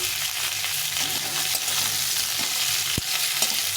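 Potatoes and onions fry together in a hot pan, giving a loud, constant sizzle with occasional stirring scrapes and a brief clack near the end, no voices.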